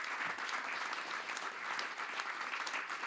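Steady audience applause fills a francophone student centre inauguration ceremony, a dense, even patter of many hands clapping at moderate distance, continuous and without voices.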